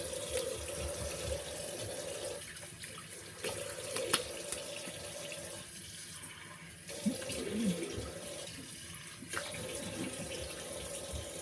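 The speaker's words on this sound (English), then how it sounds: "I'm going to rinse that off" A bathroom tap runs as water rinses a face after a shave, a steady close stream with splashing and dripping that breaks and resumes several times.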